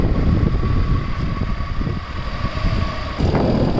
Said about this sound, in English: You can just check out the engine noise, how beautiful it is